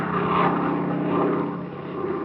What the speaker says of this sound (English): by 5:30 I was riding with Fred Kane in Mr. Harvey's private plane, headed for sunny California